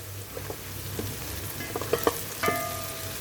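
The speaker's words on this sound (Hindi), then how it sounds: "थोड़ी थोड़ी देर में हम चमचा चलाते जाएंगे ताकि हमारी प्याज जल ना जाए।" Soft sizzling of onions frying in a pan, with occasional scrapes and clinks of a spoon stirring, close and fairly quiet.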